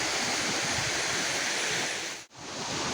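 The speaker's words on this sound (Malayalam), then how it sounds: "ഇവിടെ ഒരു ചോല പോലെ ഒഴുകി വരുന്നുണ്ട്" Water rushing steadily down a canal near Choriyankunnu waterfall, flowing like a stream during the monsoon season, a dense continuous wash with one sudden brief dropout near the end.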